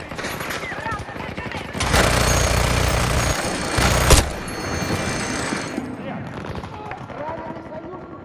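A mounted machine gun rattles in sustained, dense bursts during an infantry Breakthrough match of Battlefield 2042 on PS5, with shouted voices before and after the loudest stretch.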